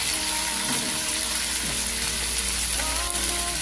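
Bitter gourd (ampalaya) is sautéed in a pan with a loud, dense, continuous sizzle. Clinks and scrapes of a utensil against the pan rise and fall underneath it, close up and without any talking.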